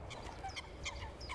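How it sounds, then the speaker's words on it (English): Eurasian coots squabbling over territory in spring, giving a quick series of sharp, honking calls and squeaky cries close by over a low ambient background. "Here's a group of Eurasian coots. They're fighting over territory."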